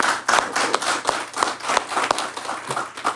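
Attendees at a tribal council budget hearing clap for staff and teams, a smaller group producing a rhythmic, fairly close patter of distinct hand claps with audible individual strikes.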